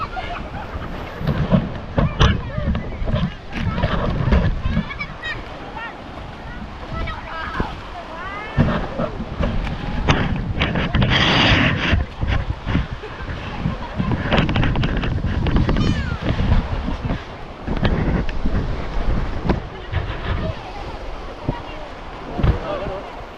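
Blustery wind buffets the microphone over rushing, churning waves on open sea off Burias, with people talking in Filipino and calling out intermittently throughout.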